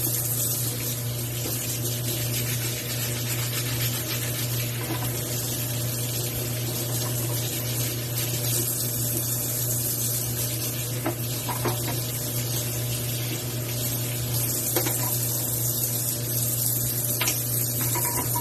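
Water runs steadily while the brew unit of a DeLonghi espresso machine is washed under a tap, a constant close rushing splash with faint scrubbing and clinks throughout.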